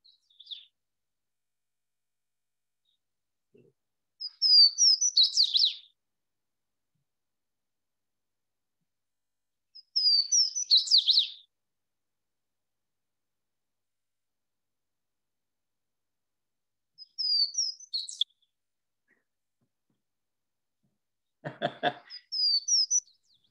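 Recorded song of a wild bird: four short bursts of high, bright chirps and trills, spaced several seconds apart over silence, the last phrase ending in a lower buzzy rattle.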